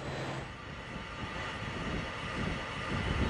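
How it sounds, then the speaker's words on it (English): Steam rushing through a pipe at the Bottle Rock geothermal power plant, a loud, steady broadband hiss and roar that holds constant throughout, with no voices. "What you hear is steam passing through the pipe."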